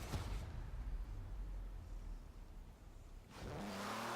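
A Jaguar in Forza Horizon 4 drives with a steady, loud engine drone that fills the whole stretch, then revs up sharply toward the end.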